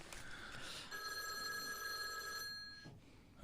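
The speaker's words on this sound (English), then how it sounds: "The phone's ringing." A telephone bell rings steadily with a bright, continuous tone at moderate level, in a live broadcast studio setting with no talking over it.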